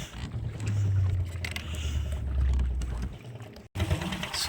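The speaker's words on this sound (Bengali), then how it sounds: "আধা ঘন্টা চালাতে হবে আমাকে নৌকা" Water sloshes and splashes against a small boat being rowed on a Sundarbans river, in repeated surges, with a brief dropout near the end, no voices heard.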